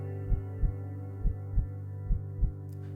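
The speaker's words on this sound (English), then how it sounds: "I can hear my heartbeat." A heartbeat thumps six times in a slow, regular rhythm over a steady low hum, each beat a soft, deep pulse standing out clearly against the drone.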